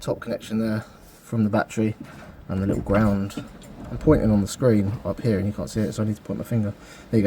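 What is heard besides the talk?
No distinct noise like a dog, phone or traffic.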